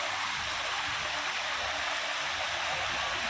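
A waterfall in a forest during heavy rain gives a steady, dense broadband rush of falling water, constant and fairly close, with no voices over it.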